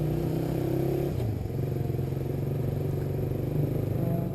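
A carbureted 2019 Suzuki Raider R150 underbone motorcycle pulls away, its engine note droning steadily and close with a dip and shift in pitch as it moves off, then settling into a sustained rumble.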